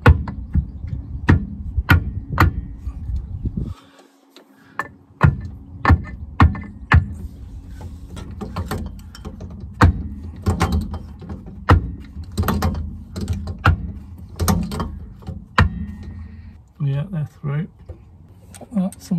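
Hard, repeated tapping as a CV joint drive shaft is driven into place on a Lotus Elan +2: sharp metallic knocks, close and uneven in rhythm, with short pauses between runs of blows and a person talking over them.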